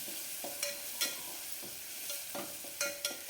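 Green chili and garlic thecha fries quietly in a pan for a curry, a soft steady sizzle broken by several sharp scraping stirs, close and alone with no voices.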